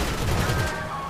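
Rapid gunfire in a video game crime mission, with bursts of shots striking a car, dense and loud through the first half and then tapering to a quieter rumble.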